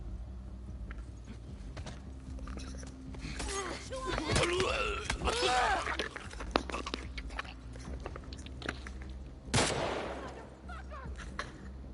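Gunfire in The Last of Us Part II sounds in scattered sharp cracks, with a louder burst near the end, under shouting voices and a low game rumble.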